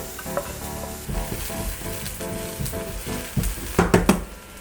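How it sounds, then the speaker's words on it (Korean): Chopped scallions sizzle in cooking oil in a hot pan for Korean cup-ramen fried rice, a steady crackle with a few stirring clinks and scrapes that build louder toward the end. "팬에 식용유, 파를 넣어 파기름을 내줍니다"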